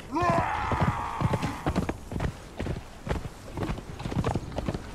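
Video game horse hooves clop rapidly and unevenly on hard ground as the horse is ridden, opening with a brief neigh, the beats loud and close throughout.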